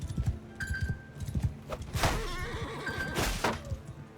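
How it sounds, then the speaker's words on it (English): A horse neighs in a large cavalry battle in the video game Mount & Blade II Bannerlord, its whinny rising over a dense clatter of hooves, thuds and battle noise. "Horse. Cavalry!"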